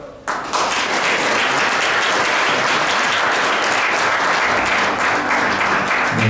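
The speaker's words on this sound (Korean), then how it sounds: "이대목 전 부이사장님께 다시 한번 큰 박수 부탁드리겠습니다" An audience at a memorial ceremony for the late chairman Park Tae-joon claps for a former vice chairman, with loud sustained applause that swells in abruptly and holds steady throughout.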